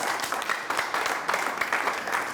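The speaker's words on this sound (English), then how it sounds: "Let's give him a round of applause." Studio audience applauding a guest on a church media program, a steady, dense wash of clapping that holds at an even level for a couple of seconds.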